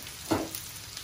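Sautéed potatoes tipped into a pan with onions, a brief burst of sizzling as they hit the hot fat, then a quieter crackle of frying.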